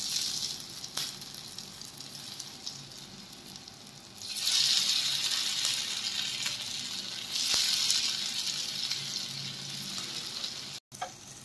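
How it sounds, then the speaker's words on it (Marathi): Kothimbir vadi, coriander fritters, fry in hot oil in a pan with a continuous crackling sizzle that surges louder in two long waves, then eases between them. "आता आपण वड्या छान फ्राय करून घेऊयात।"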